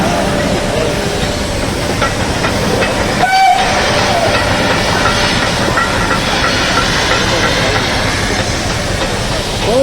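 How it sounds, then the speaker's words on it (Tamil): The Ooty mountain train rumbling past close by, with a constant loud roar of wheels and hissing steam, people's voices faintly mixed in. "ஊட்டி ட்ரெயின்"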